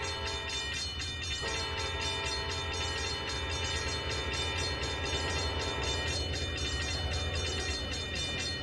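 A simulated train in Trainz 2019 on the Tidewater route rumbling through a road crossing, a steady, dense rolling noise with sustained horn tones sounding over it throughout, no voices.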